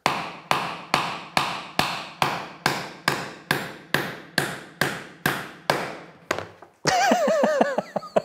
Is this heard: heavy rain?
no